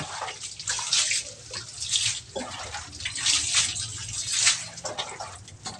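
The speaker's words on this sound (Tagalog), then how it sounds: "So paliguan at buhusan natin ng tubig siya guys" Water is poured over a pet dog during its bath, coming in close, rushing splashes that swell and fade in several surges.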